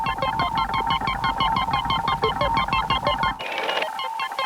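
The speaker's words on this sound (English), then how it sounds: "We have this sound of the computer." A sci-fi film computer emits a rapid, regular stream of electronic bleeps and chirps with a low rhythmic pulse underneath, then shifts abruptly to a brighter, buzzier tone near the end.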